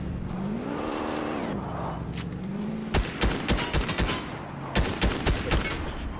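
Gunfire in a competitive online shooter match, heard during a watch party: bursts of rapid shots in clustered volleys, first over a steady car engine drone, then loud and close in quick rhythmic bursts.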